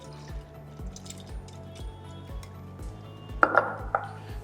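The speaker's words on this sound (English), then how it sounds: "I'm going to add the clean soaked rice, which is well rinsed, and also the dal" Rinsed soaked rice and dal poured into a pot for ven pongal, a soft patter of wet grains and drips with faint clinks of metal, then a few sharper knocks near the end, with no talking.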